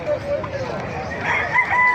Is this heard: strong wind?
no